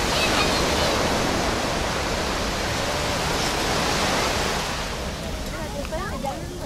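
Beach surf at Acapulco, Mexico, rushes as a loud, steady broadband wash of breaking waves up close, easing slightly toward the end, with no clear voices over it.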